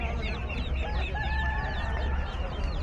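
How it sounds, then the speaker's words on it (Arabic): Chickens, chicks and other fowl clucking and cheeping at a Saudi bird market in Khamis Mushait, a busy overlapping chorus of many birds close by with steady crowd murmur behind. "كتاكيت."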